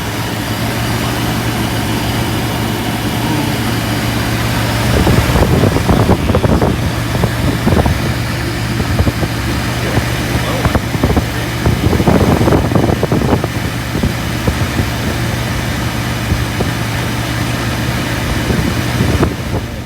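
A 1978 Lincoln Mark V convertible idles with a steady low engine drone and a fan-clutch whir after heater hose work, with a couple of louder surges of revving in the middle.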